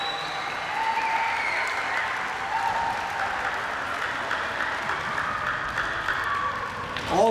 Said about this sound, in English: I'll ask all the students to give them a little good round of applause